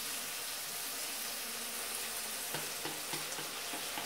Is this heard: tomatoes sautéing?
yes